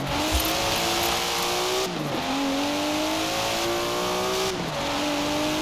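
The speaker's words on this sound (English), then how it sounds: "Never heard a Datsun sound like that, have you?" A Datsun car engine in Forza Horizon 4, loud and close, revving in long rising pulls through the gears, the pitch dropping briefly at each shift before climbing again.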